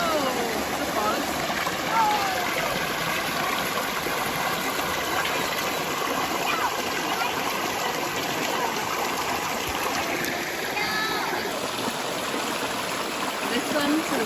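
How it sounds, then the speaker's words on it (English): Stream water rushes continuously at Mt. Carmel waterfall in Grenada, a steady broadband wash of flowing water close by, even in level from start to finish with no pauses. "Listen to the sound of the water."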